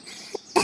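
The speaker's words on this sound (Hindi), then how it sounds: "मुझे बहुत खांसी हो रही है" A child cartoon character in a Hindi animated story gives a single short cough, voiced by a performer, after a faint murmur.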